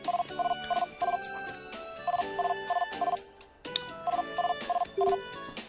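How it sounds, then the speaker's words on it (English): A cell phone ringing in the Medabots Dual video game: a chiptune-style melodic ring of short repeated tone bursts in three clustered phrases, with a brief gap before the last, clear and loud with no voices. "Cell phone."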